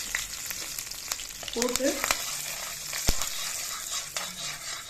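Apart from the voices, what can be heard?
urad dal, curry leaves and asafoetida frying and being stirred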